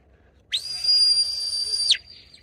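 A shepherd's single loud, sustained high-pitched whistle command to a sheepdog, lasting about a second and a half, sharp onset and a quick upward flick at the end, in quiet surroundings in Scotland.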